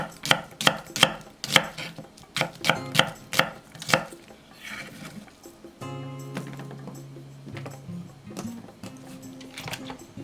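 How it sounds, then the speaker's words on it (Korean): Half an onion being cut into thick strips on a cutting board: about a dozen quick, crisp knife chops over the first four seconds, then the chopping stops and steady background music continues. "양파 반 개는 굵게 채 썰고"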